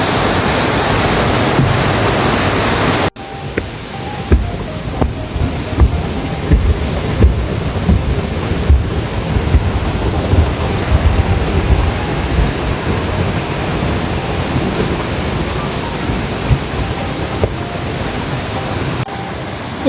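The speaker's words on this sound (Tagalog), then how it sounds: "Ang cute, ang liit naman ng falls na to." A small, clean mountain waterfall in Korea in summer roars as a steady, loud broadband rush of falling water, continuous and close with no voices, after a brief louder burst at the start.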